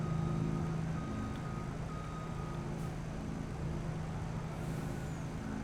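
Vehicle reversing beeps from farm machinery in Farming Simulator 22 sound over a steady low engine rumble, repeating in an even rhythm close by, with no talking.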